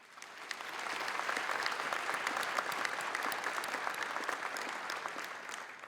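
Luncheon audience at a Missouri Sports Hall of Fame women's sports event applauding an honoree, moderate steady clapping that rises, holds evenly for several seconds and tapers at the end.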